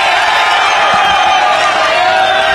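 A large outdoor crowd at a Kenyan political campaign rally with Raila Odinga and Karua, a loud continuous roar of clapping and cheering that holds steady throughout, dense and unbroken with no single voice standing out.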